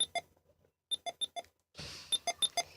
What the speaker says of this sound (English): if you like turn off the stereo, it makes like a beep noise.